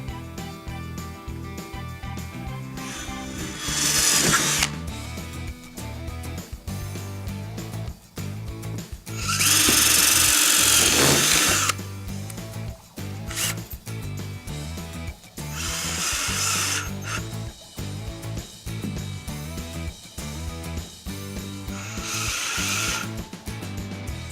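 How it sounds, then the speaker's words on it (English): A power drill pre-drills into the aluminum P-channel of a Wolf railing in several loud whirring bursts of a few seconds each, with clattering and handling noise in between. "There is aluminum inside there, so we're going to want to pre-drill and hitting 2 of those 3 spots."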